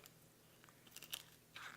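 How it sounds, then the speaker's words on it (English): Scissors cutting through raw rib bones in a home kitchen, a few quiet crisp crunches and snips, faint and close. "you can hear it crunching because you're actually cutting the bone and everything"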